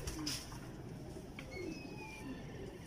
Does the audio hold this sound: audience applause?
no